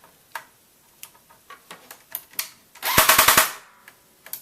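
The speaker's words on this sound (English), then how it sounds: "I forgot to put it on full auto to prove to you it goes on full auto." An airsoft gun fires a short full-auto burst of about six rapid, sharp cracks, preceded by scattered lighter clicks and taps from handling the gun, close and loud with no talking.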